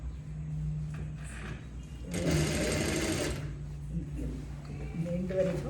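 A sewing machine stitches a folded kurta seam in a steady whirring burst lasting about a second, with quieter handling sounds before and after and a voice talking around it.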